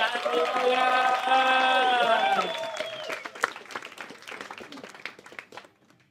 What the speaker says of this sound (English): So let's start clapping. Let's make some noise.